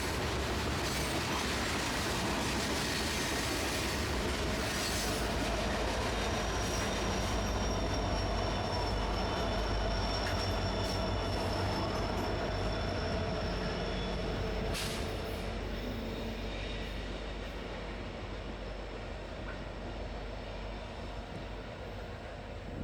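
A long, heavy maintenance-of-way train loaded with ballast rumbles steadily past nearby at Gallitzin, Pennsylvania, a dense roar with faint metallic whines and squeals, slowly easing toward the end.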